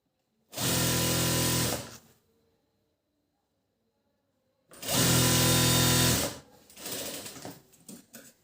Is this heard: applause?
no